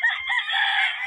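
Allen Roundhead rooster on a farm crowing once, a loud, sustained call held for about a second, close by with no talk over it.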